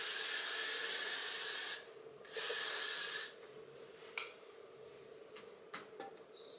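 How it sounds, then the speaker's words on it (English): A makeup setting spray is misted onto a face in two close bursts, each a loud airy hiss lasting over a second, followed by quieter clicks and soft rustling. "The final little spray down."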